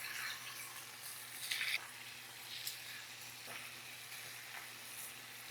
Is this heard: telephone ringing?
no